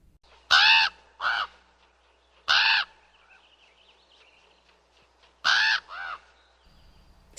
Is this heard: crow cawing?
yes